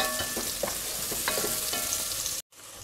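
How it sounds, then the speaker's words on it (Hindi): Cumin seeds and chopped onion sizzling in hot oil, a loud continuous fry hiss with intermittent stirring scrapes close by, cutting off abruptly near the end. "तेल हमारा गर्म हो चुका है, इसमें डालेंगे हम थोड़ा सा जीरा और कटा हुआ प्याज"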